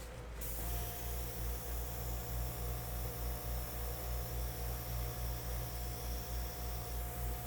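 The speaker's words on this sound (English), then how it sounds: "I'm going to do a little bit of airbrush work on those edges." Airbrush sprays paint onto the edges of a Dutch pour painting, a steady close hiss with a low pulsing hum underneath that runs unbroken throughout, with no talk.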